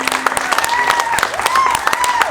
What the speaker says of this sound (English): please give a round of applause for Haley.